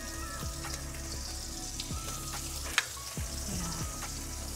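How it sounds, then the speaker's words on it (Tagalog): Dried salted fish (tuyo) frying in hot oil in a home kitchen, a steady close sizzle and crackle with a few sharper pops, continuous throughout with no talking. "iprito natin ang ating tuyo"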